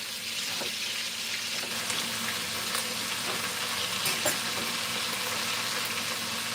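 A whole onion fries in a pan with a loud, dense, continuous sizzle and a few faint clicks, close and steady throughout.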